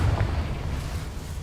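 Spell blast from the Confringo fire curse in Hogwarts Legacy on PS5: one loud, low booming burst at the start, then a rumbling fiery tail that fades slowly with no talk.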